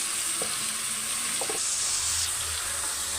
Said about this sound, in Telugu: చికెన్ బిర్యానీలో ఈ చికెన్ మ్యాగ్నేట్ చేసి పెట్టింది వేసుకోవాలి.